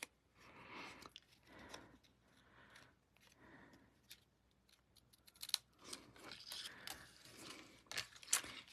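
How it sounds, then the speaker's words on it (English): Paper snips cut around the embossed edges of paper leaves for handmade cards, giving a string of close, crisp snipping and crinkling sounds in bursts, with quieter pauses between cuts and sharper snips toward the end. "you can use your paper snips and just quickly and easily cut around the edges of some of those leaves"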